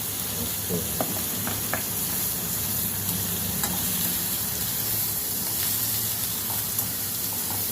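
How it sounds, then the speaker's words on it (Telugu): Ginger garlic paste frying in oil makes a dense, steady sizzle, punctuated by small pops and occasional stirring clicks, close and fairly loud throughout. "అలా వెల్లుల్లి పేస్ట్ వేగిపోతుంది"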